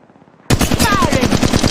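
Rapid automatic gunfire in the mobile shooter Apex Legends Mobile, a loud, close, sustained burst of evenly spaced shots starting abruptly after a brief near-silence.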